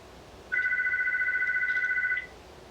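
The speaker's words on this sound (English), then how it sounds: "Oh, there's the phone." A single telephone ring sounds clearly in a quiet room: one steady two-tone electronic trill lasting under two seconds, close and alone over faint background hiss.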